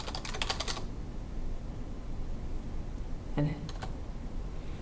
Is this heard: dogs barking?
no